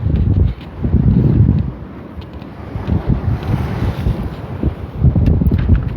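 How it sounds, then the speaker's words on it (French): Strong wind gusting outdoors in the Camargue, rumbling and buffeting the microphone in loud continuous waves, briefly easing then surging again. "j'espère que le son sera bon parce qu'il y a du vent."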